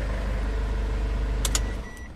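The idling engine of a Ford Everest runs steadily with a low hum and then cuts off near the end, leaving a brief faint click and quiet.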